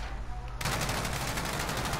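Light machine gun fire in Call of Duty: Modern Warfare, a sudden sustained rapid burst of loud automatic shots after a quieter start, with no one talking.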